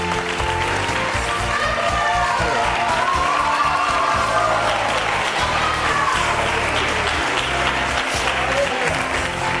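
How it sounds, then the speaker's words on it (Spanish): A studio audience on a Spanish television show applauds Eduardo's entrance with sustained, dense clapping and some cheering, while voices and a melody sound faintly underneath. "Un aplauso para Eduardo"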